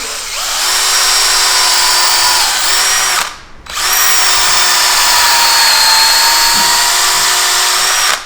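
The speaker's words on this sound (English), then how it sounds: "I'm just pre-drilling the dowel in the centre to accept the screw." A power drill whines steadily, high-pitched and close, pre-drilling the centre of a wooden dowel, pausing briefly midway before starting up again and running on.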